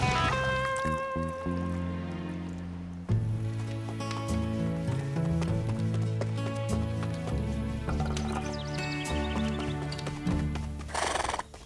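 Cartoon horses gallop and neigh in an animated western, a whinny near the start and then steady hoofbeats running under lively orchestral music.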